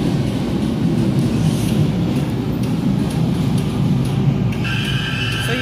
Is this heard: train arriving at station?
yes